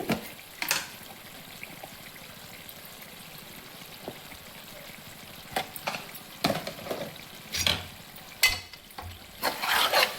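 Chili powder is stirred into a tomato and broad bean curry in a pan, making soft intermittent scraping strokes over a low, steady simmer, with the strokes getting louder toward the end.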